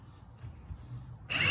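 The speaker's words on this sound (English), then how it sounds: "I put a bigger drill bit in so I can drill from the other side" A power drill fitted with a bigger bit bores through wood on a bathroom vanity door; quiet low handling noise gives way to a sudden loud, bright whirring burst of the drill near the end.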